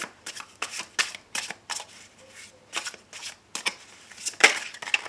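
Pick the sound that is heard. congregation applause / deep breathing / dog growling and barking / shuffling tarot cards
shuffling tarot cards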